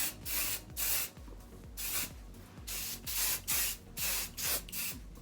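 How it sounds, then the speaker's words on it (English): A Marc Anthony Argan Oil of Morocco hairspray can sprays close by in a run of about eight short hissing bursts, each broken by a brief pause, in an otherwise quiet room. "now I'm gonna do one last pass over with my hairspray"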